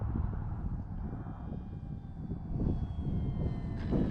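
An E-Flite T-28 1.2m RC model airplane on its maiden flight drones overhead at moderate distance, a steady motor whine rising slightly in pitch, with wind rumble underneath.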